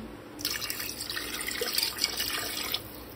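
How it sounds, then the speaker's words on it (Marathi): Water pours steadily into a pressure cooker for a few seconds, a close, splashing stream with no talking. "आता त्याच्यामध्ये 1 ग्लास पाणी टाकूया"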